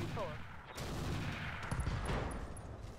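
Weapons fire in the mech combat game Roguetech, a steady stream of dense gunfire and blasts with a few brief sharp electronic tones on top, loud and continuous.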